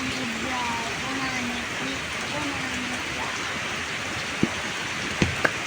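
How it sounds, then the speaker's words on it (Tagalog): Steady hiss of sudden rain falling in Siargao, Philippines, continuous and fairly close, with a few sharp drips or taps near the end and faint background voices. "Dahil bigla-bigla na lang ang ulan."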